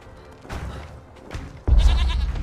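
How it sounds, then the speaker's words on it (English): Goat bleats in the Conan Exiles video game, a loud burst of bleating near the end after softer game sounds, with no talk over it. "Get out of here, goat."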